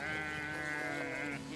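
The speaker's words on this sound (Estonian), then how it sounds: "Lambad sobivad siia kohta." Sheep bleat on a farm in one long, wavering call that carries over a quiet outdoor background.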